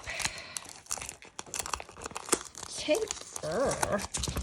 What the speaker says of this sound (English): we're going to pull off as many tapey tapes as we can find